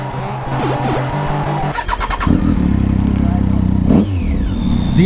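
Honda VFR Interceptor sportbike at a busy bike meet, its engine revving hard with rising and falling whine over the idle of other machines, loud and close.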